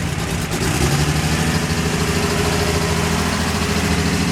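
A twin turbo inline-six Datsun engine idling, a steady loud rumbling drone with a low throb, close by and constant throughout, with no talking.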